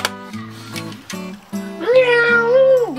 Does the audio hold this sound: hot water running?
no